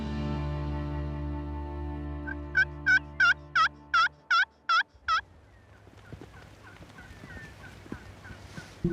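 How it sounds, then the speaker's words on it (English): A wild turkey hen calling loudly during a Montana spring hunt, a close, sharp series of about eight evenly spaced yelps, followed by softer clucking under a low outdoor hum. "A different hen comes in behind us, calling loudly and obviously annoyed"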